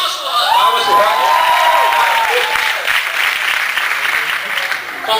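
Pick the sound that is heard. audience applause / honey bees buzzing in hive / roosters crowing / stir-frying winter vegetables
audience applause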